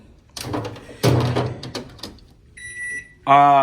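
A few muffled knocks and clunks, then two short electronic beeps from a hotel-room microwave oven, the last one loud and clear.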